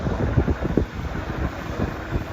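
Strong wind blows outdoors and buffets the microphone, making a continuous low rumbling roar with uneven gusty thumps throughout, with no voices present.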